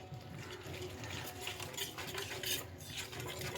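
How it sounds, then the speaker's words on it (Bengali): Rice-flour pakora batter with salt and turmeric being mixed with water in a bowl, giving a continuous wet stirring and scraping with small clinks of the utensil, close and fairly quiet with no talking. "এবার আমি এটা জল দিয়ে গুলিয়ে নেব।"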